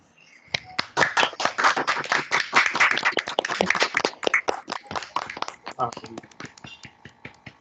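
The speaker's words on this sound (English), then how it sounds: "just unmute your microphone if you wish to give Sharif a round of applause" Several people clap over unmuted microphones on an online call, a few close, uneven hand claps building into a brisk burst, then thinning out into scattered claps.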